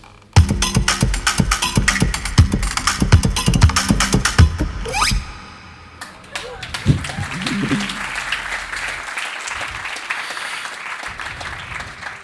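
A busy drum beat with thumping kick, cracking snare and hi-hats plays loudly for about five seconds, then stops, leaving a softer room murmur and clatter.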